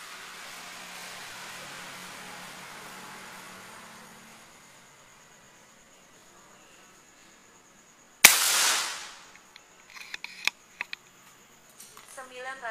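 An air rifle firing a 15 grain mini slug on a range: quiet ambient noise, then one sharp loud crack that decays quickly, followed by a few small clicks and rattles.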